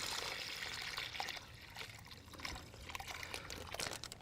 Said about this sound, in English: I'm gonna go ahead and pour this into our Ziploc bag over the pork loin